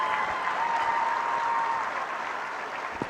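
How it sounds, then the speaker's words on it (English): Sustained crowd applause at the Ulster Ladies Junior Championship Final, a steady dense clapping that holds loud for about three seconds, then eases slightly toward the end. "Let's give them a big round of applause,"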